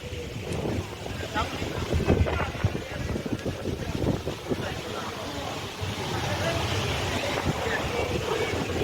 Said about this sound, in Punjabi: ਬੜੀ ਠੰਡੀ ਠੰਡੀ ਹਵਾ ਚੱਲਦੀ ਪਈ ਹੈ